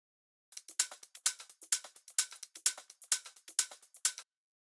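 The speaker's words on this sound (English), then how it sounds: "So basically it's a hat that sounds similar like a shaker." A hi-hat sample with a shaker-like character plays a quick rhythmic pattern of bright, crisp ticks and shuffles, close and dry, alone with no voice.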